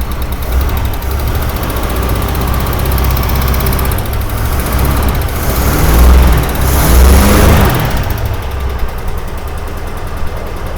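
A running 1961 Ford van engine, left sitting over 30 years, rumbles loudly, then swells twice as it's revved before easing back to a steady idle.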